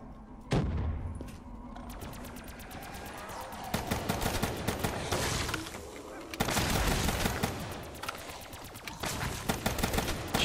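Repeated shotgun and automatic gunfire in Call of Duty: Black Ops 3 Zombies on Kino der Toten, sharp bursts and rapid strings of shots, loud and close, with talk in between.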